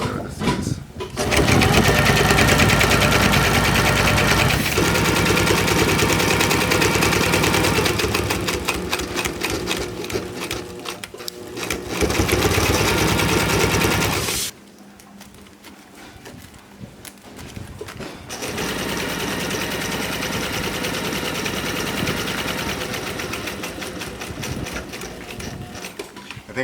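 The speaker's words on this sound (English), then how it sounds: "that's the way it works with sewing machines" A sewing machine stitches Dacron sailcloth in long, loud, continuous rattling runs, stopping briefly near the midpoint before starting up again for another sustained burst.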